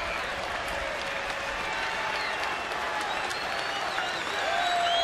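A Padres home baseball crowd roars and claps in a sustained wash of cheering, loud and continuous, with a broadcast announcer's voice faintly over it.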